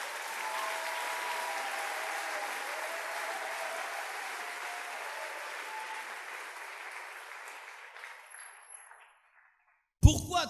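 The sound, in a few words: congregation applauding and acclaiming the Lord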